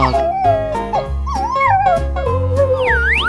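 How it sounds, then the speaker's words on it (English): A dog in a 3D animal slide video game gives a drawn-out, wavering howl mixed with whimpers and short yips, loud and close, over a light game backdrop. "Dog"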